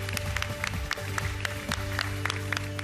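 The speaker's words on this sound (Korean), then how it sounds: "저희한테 좋은 강의를 해주신 폴용 교수님께 다시 한번 큰 박수 부탁드리겠습니다" An audience applauds after a lecture at an education forum: dense, continuous clapping from many hands, steady and fairly loud throughout, with no voices over it.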